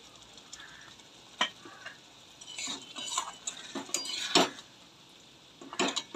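Egg masoor dal stirred in a pan with kasuri methi, irregular metal spoon scrapes and clinks against the pan over a soft simmering hiss, in scattered bursts.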